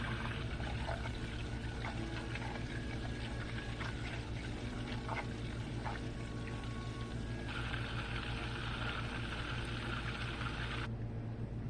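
Browning butter for butter pecan cookies bubbles and sizzles in a pan, a steady close crackling fizz with faint scattered pops and no talk.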